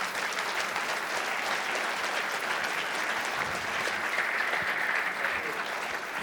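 Steady applause from an award ceremony audience honouring a government minister, dense and continuous throughout at moderate loudness with no talk over it.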